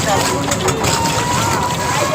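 A boat carries people across clear river water at Jaflong, its steady loud rush mixed with strong wind buffeting the microphone throughout the short stretch.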